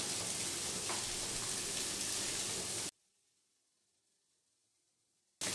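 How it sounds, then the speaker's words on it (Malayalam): Egg and masala with chilli powder and garam masala frying and being stirred in a pan over a high flame, a loud steady sizzle that cuts off abruptly partway into near silence. "ഹൈ ഫ്ലെയിമിൽ 1 മിനിറ്റ് നേരം ഒന്ന് ഇളക്കി കൊടുക്കാം."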